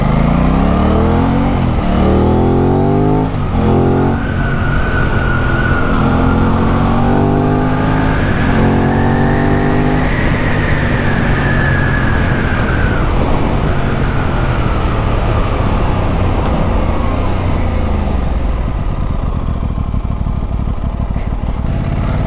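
A 2024 Aprilia RS660 motorcycle accelerates from a standstill, its engine rising loudly and repeatedly through the gears in climbing revving sweeps, close and continuous with wind rush and no talk.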